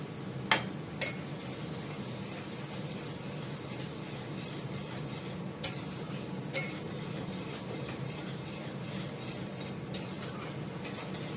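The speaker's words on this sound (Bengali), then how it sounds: "কপি আলুতে নুন দিয়ে ভাজা হয়েছে" Cauliflower and potatoes fry with salt in a wok, a steady low sizzle running throughout, broken by a few sharp scrapes and clinks of a spatula against the pan as the vegetables are stirred.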